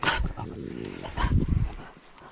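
A dog barks a few times nearby over rustling outdoor ambience, with a low growly tone mixed in.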